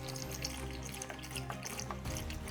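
Coolant streams steadily out of the single radiator drain plug on a Civic, a continuous close splashing pour with dripping detail and no talk.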